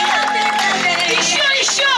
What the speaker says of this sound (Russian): Встречаем аплодисментами Валентина и Дмитрий!